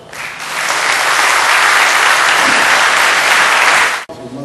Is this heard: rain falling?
no